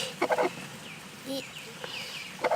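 A hen gives several short clucking calls, bursts spaced in a loose rhythm, fairly close and moderately loud over a quiet background.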